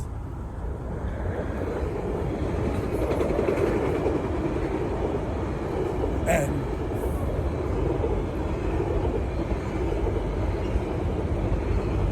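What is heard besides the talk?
train passing by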